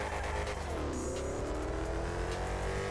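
A Dodge Dart race car in GTA 5 revs hard as it accelerates, a loud steady engine drone that climbs in pitch and then holds for about three seconds.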